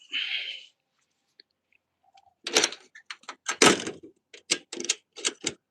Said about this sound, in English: Make sure this door is locked.